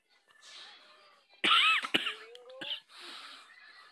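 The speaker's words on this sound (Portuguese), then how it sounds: "Desculpe, eu tô uma tosse." A person with a cough lets out a few harsh coughs, one strong burst followed by smaller ones, close and fairly loud, with breathy throat sounds before and after.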